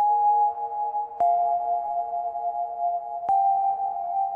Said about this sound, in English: So this is kind of like a glass pluck sound I made